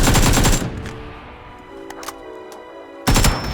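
Loud bursts of automatic rifle fire from a PUBG battle, one rapid volley at the start and another near the end with a quieter, ringing gap between.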